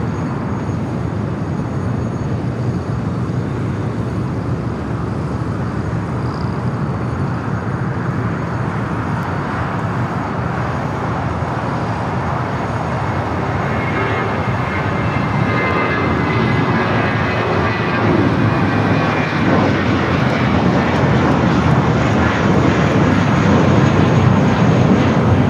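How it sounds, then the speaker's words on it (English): A United Airlines Airbus A320 jet at LAX, bound for Seattle, gives a steady, loud engine roar that builds slightly toward the end, a continuous broadband rumble with no voices. "Up next, United Airlines flight 1284 heading to Seattle."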